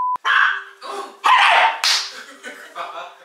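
A dog barks repeatedly in short, sharp yips and bursts close by, loud and irregular, with a steady tone running underneath.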